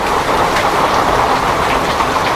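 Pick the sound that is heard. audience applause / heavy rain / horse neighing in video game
heavy rain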